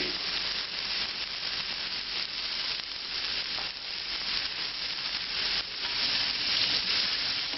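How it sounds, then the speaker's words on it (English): Ribeye steak sears in a smoking-hot pan with a loud, dense, continuous sizzle close up, crackling steadily without a break. "I'm going to add the meat."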